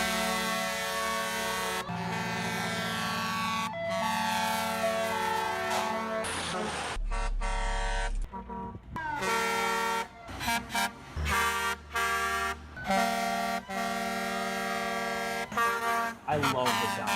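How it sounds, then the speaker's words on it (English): A Grover 1748 air horn set used as hockey goal horns sounds in a compilation of loud sustained blasts, some long and some in short chopped bursts, separated by brief pauses. "the regular Rangers horn is also a Grover horn"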